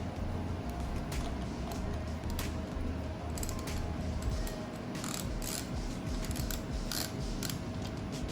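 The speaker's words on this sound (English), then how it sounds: "So I'm gonna use a 15mm socket" A ratchet with a 15mm socket works loose the brake bolts on a car wheel, giving faint bursts of quick clicking over a low background rumble.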